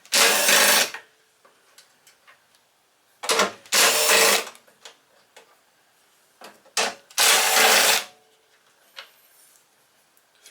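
A ratchet or power driver on a 5/16 socket backs out three bolts on top of a Briggs and Stratton push mower engine, giving three loud, buzzing bursts with short clicks and taps between them.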